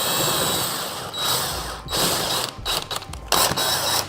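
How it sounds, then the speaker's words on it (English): Bolts are fitted to a seat backrest with a power tool or ratchet, giving a close series of whirring and clicking spins broken by short pauses, with no talk. "we'll go ahead and put the 4 big bolts in to start"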